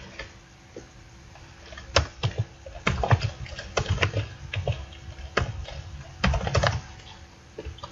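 Programming code goes in on a computer keyboard in irregular runs of close, crisp key clicks, some louder strikes mixed in, with short gaps between bursts and no talk.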